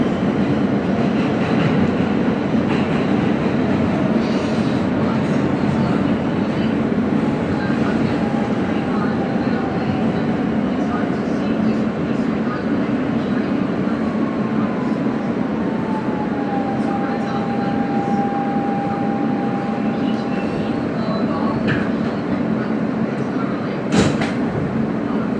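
Continuous loud rumble and roar of a Siemens R160B E express subway train in motion on the New York IND line, heard from inside the car, with a faint rising whine and a sharp clank near the end.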